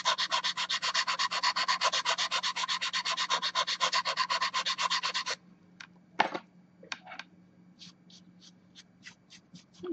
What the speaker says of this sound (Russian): Пилится основа корректора очень легко.